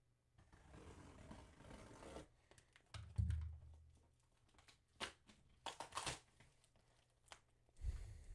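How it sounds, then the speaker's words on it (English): A cardboard box for a remote live-streaming rig being opened by hand with scissors, with tearing, scraping and crinkling bursts coming at irregular moments against quiet gaps, close and fairly soft. "So let's go ahead and open up this box."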